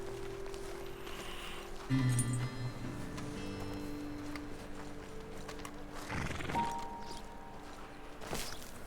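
Horses in the Red Dead Redemption 2 video game shift and walk, giving soft clip-clop hoofbeats and a whinny. Steady tonal game ambience hums underneath at moderate to low volume.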